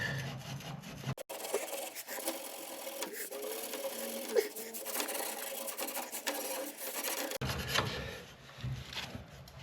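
The end of a gas pipe being scrubbed clean by hand before a press fitting goes on, rhythmic close rasping strokes in a sustained burst, with quieter handling before and after.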